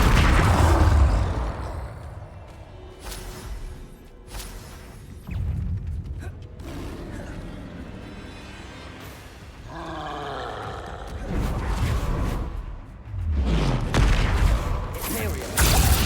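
Bombarda blast spells fired in Hogwarts Legacy combat, loud booming bursts with crackling magical impacts and rumbling among creaking mechanisms and roars, several hits spread across the fight amid layered game effects.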